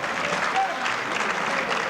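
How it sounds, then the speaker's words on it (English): An audience applauds at a 14.1 straight pool billiards championship final, a dense, steady wash of clapping heard close and loud throughout. "Tremendous response from the crowd"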